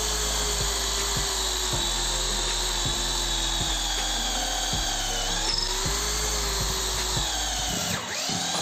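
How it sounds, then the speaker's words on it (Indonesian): A Worksite CD334H cordless hammer drill bores into meranti wood with a loud, steady high-pitched motor whine, its pitch dipping slightly under load and ending with a brief slowdown near the finish. "Kita coba mengebor, kita coba langsung paksa saja."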